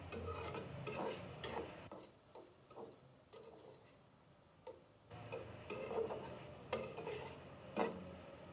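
Garlic paste frying in oil for a fish curry gives a soft sizzle broken by clinks and scrapes of a spatula stirring in the pan, quiet and close, with no voices.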